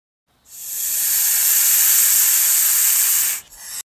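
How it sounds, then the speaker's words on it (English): A snake hisses in one sustained, loud, breathy burst lasting about three seconds, then cuts off abruptly and is followed by a short, softer second hiss. "Snake."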